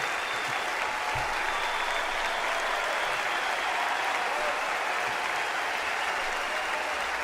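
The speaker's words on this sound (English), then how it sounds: "Whole place erupts." A political convention crowd bursts into sustained, dense applause, a steady roar of clapping that fills the whole stretch without a break.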